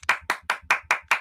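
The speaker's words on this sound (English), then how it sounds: "Let's just clap the team bus as it drives past us." Six sharp hand claps in an even, quick rhythm, close and crisp with no voices.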